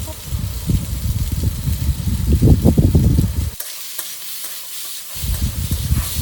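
Boiled pasta tossed and stirred with pasta masala in a hot pan, with busy scraping strokes over a soft sizzle, loud and close, broken by a short lull before the stirring resumes.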